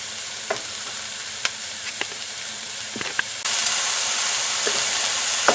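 Leftover pork roast pieces sizzle in a single layer in a pan, a steady frying hiss with scattered pops and stirring clicks, close and constant and no one talking.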